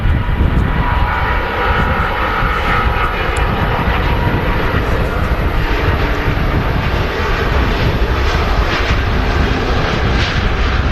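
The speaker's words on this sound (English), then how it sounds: "There she goes, rotating into the air now. Just shows you the sheer power of those Rolls-Royce engines." A Virgin Atlantic Airbus A350-1000 with Rolls-Royce engines takes off at Manchester Airport, a loud, steady jet roar that holds strong and close the whole time with no talk over it.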